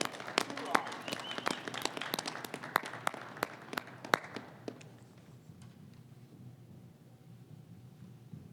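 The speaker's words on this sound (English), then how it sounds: "And a hearty round of applause." An audience at a Masonic installation gives a round of applause, scattered sharp claps for about five seconds that then fade out, leaving a quiet room.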